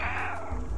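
A ginger cat character meows in a video game, a single sustained, fairly loud meow with a steady low background hum.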